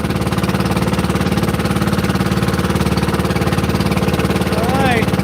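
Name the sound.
boat underway with two engines running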